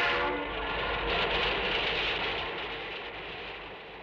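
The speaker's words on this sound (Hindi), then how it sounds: "ट्रेन मुकुट वाले डब्बे के साथ में 10 नंबर गेट से निकल गई है" A train pulls out of a station gate, a steady loud rumble of wheels and carriages rolling past that swells slightly, then eases off gradually.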